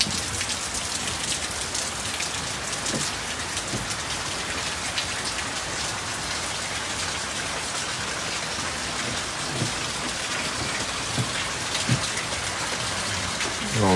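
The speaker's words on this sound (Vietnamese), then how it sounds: "Không ngờ ông trời cho nó mưa đã quá" Heavy rain pours steadily over a temple garden with a lotus pond, a dense continuous hiss with scattered drop hits close by and no speech.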